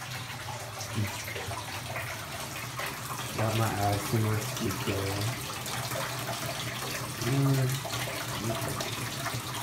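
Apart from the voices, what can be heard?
cold water running into an ice bath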